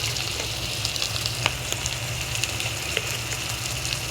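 Chili, turmeric and coriander powders frying in hot oil, a steady close sizzle with faint scattered pops and crackles, continuous throughout with no voices.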